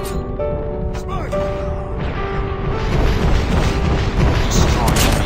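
A video game explosion as an enemy VTOL aircraft is destroyed, a deep rumbling boom that swells midway and lingers under constant game noise, with brief tonal alert sounds early on.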